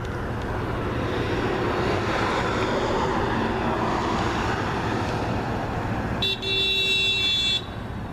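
A car passes by outside at night, a steady broad roar of engine and tires that swells and lingers, close and loud, with a brief tonal beep or horn-like chirp near the end and no talking.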